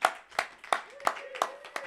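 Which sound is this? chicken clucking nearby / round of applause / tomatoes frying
round of applause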